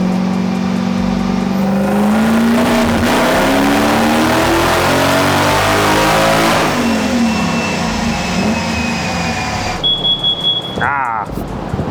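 A supercharged V8 drift truck roars through a dyno pull, revving steadily upward in pitch at close range before dropping off, followed by lighter revs and a high whine near the end, with voices mixed in.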